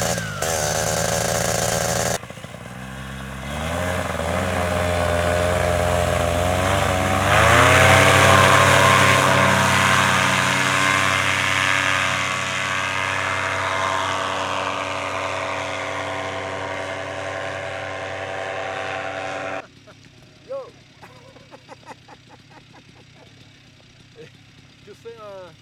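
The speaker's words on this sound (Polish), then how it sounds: "Nie ma mocy silnik." A paramotor engine, lacking power, runs at a Coupe Icare takeoff site. It gives a loud, steady buzzing drone whose pitch wavers and rises, then cuts out abruptly near the end, leaving faint background noise.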